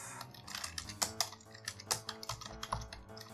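Computer keyboard keys are struck in quick, uneven bursts while code is typed, close and crisp, with no voices.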